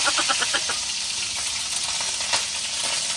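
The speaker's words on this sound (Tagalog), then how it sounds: "So mamaya magigisa tayo ng bawang at sibuyas." Garlic and onion sauté in a hot pan for adobong baboy, giving a loud, close, crackling sizzle with quick stirring scrapes at the start. The sound stays steady and continuous with no talk over it.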